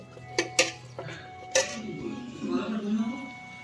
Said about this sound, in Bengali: এবার এই গরম মশলাটা দিয়ে দেবো, একটু নেড়ে দেবো